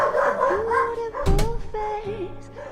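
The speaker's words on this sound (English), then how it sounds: "Fucking dog." A dog in the video game L.A. Noire barks and whines in a few close, pitched yelps, with voices talking over it.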